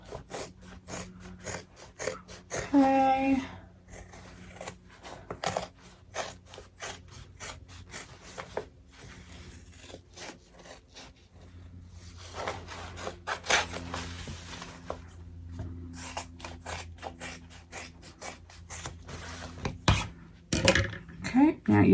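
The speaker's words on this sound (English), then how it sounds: "You're going to need some good scissors because you're cutting through zippers and" Scissors cut through zippers and several fabric layers of a sewn front-zip bag, giving intermittent crunching snips and rasping rubs at close range, with brief talk now and then.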